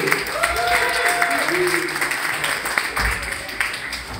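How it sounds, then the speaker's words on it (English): Applause from a comedy night audience welcoming the host and a comedian to the stage, a dense steady wash of clapping with voices mixed in throughout. "I want you to start clapping now"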